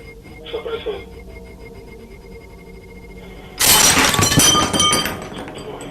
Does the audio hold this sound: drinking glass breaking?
yes